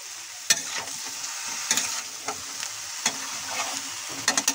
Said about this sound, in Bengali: দিয়ে দিচ্ছি লবণ হলুদ মেখে রাখা বেগুন, মশলা আলুর সঙ্গে ভালোভাবে মিলিয়ে নেব বেগুনগুলো